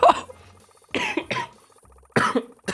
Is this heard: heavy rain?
no